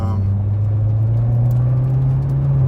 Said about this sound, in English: you hear a lot of road noise